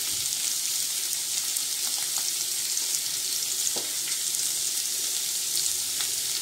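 Turmeric is stirred into a sizzling mixture in a hot pan: a steady loud frying hiss runs throughout, with a few faint scraping touches of the spoon and no voices.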